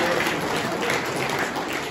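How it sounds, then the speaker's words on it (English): A short burst of hearty applause ringing through the crowd at a Dalesbred tup sale, dense continuous clapping from many hands throughout. "give me a good round of applause."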